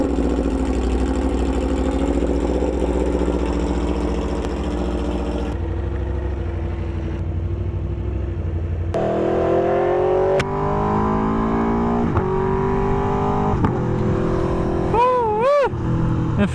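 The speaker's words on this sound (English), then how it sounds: "capture your audio with, let's say, the sound on the motorcycle directly for a more immersive experience" An Aprilia motorcycle engine drones steadily throughout the ride and is recorded close to the bike. Its pitch shifts and rises as the rider changes speed, with a brief revving swell near the end.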